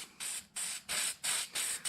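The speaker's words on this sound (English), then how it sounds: "we might as well go ahead and spray the gasket" Aerosol spray hissing onto an oil cooler gasket from a 2005 GMC Sierra 2500HD, in five short, loud, evenly spaced bursts with brief pauses between them.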